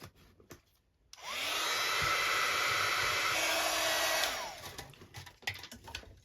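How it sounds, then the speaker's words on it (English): A heat gun blows steadily for about three seconds while drying craft texture, a close, loud whooshing whine that starts abruptly and cuts off, followed by quieter handling clatter. "I'll just get my heat gun so it'll be a little bit noisy"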